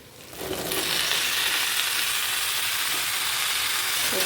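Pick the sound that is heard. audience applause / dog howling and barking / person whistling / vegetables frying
vegetables frying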